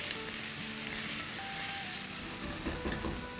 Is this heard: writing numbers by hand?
no